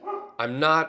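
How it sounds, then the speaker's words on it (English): A dog barks and yips at close range in a couple of quick bursts, overlapping someone speaking indoors. "I'm sorry about the dog in the background"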